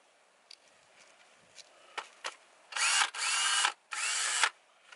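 Regular power drill fitted with a 3-inch plastic backing plate and polishing pad, used with Turtle Wax to restore faded car taillights: a few faint ticks, then three loud sustained whirring bursts with brief pauses between them.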